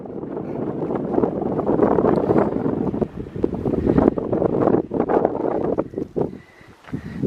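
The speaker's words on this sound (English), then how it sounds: "It's a bit windy, you can probably gather." Gusty wind on a Tour du Mont Blanc mountain pass roaring against the microphone, rising and falling in strength, briefly dropping near the end before picking up again.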